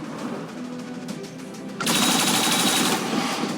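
Turrets opening fire in the XCOM 2 strategy game: a sudden loud burst of rapid automatic fire starts partway through and holds steady for nearly two seconds, over a faint background of game ambience before it.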